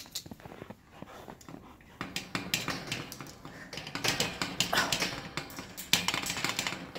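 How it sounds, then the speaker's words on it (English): A dog in snow, with soft taps, scuffles and whimpering pants at close range, busy and uneven throughout, no talking. "Oh, stupid dog."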